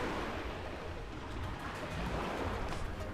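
Sea waves wash onto a sunny beach at Lamai on Koh Samui, Thailand, making a steady, unbroken surf roar mixed with wind buffeting the microphone, with no talking.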